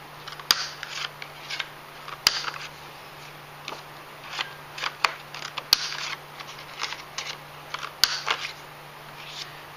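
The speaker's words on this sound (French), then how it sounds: "je vais commencer par couper les angles avec la perforatrice d'angle." A handheld corner punch trims the corners of a paper greeting card, giving several crisp, isolated clicks and snaps spaced a second or two apart, close and fairly quiet, with small rustles between them.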